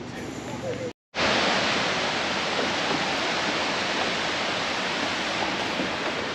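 Brandywine Falls in Cuyahoga Valley National Park roars as a loud, steady broadband wash of falling water, heard close, with a brief silent cut near the start.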